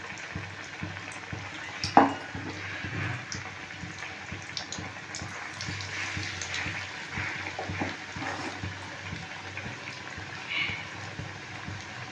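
Thankuni leaf fritters dropped into hot oil and frying: one sharp splash or clink, then a faint continuous sizzle and bubbling with light crackles throughout.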